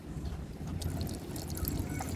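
Water runs from the tap of a hot and cold water dispenser whose tap hose is leaking, a steady close pour with a light trickling splash.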